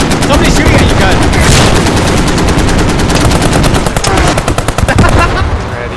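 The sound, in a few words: gunfire in a video game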